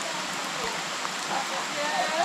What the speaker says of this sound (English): It's just drizzling now.